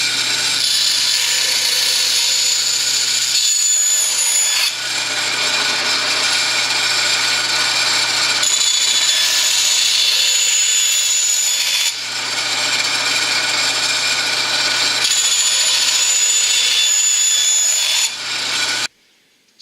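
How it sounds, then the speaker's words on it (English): A power tool cuts loudly and steadily through a stack of wood to separate aircraft wing rib gussets, in several long continuous passes with brief pauses between them, close and harsh. "we're simply going to separate each one of the gussets from"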